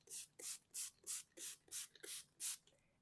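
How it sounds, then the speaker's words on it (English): A Tim Holtz spray bottle mists brewed coffee onto a paper page in eight quick, evenly spaced hissing squirts, close and crisp with short gaps of quiet between them. "I take coffee in just one of these Tim Holtz spray bottles, and I just spray the page,"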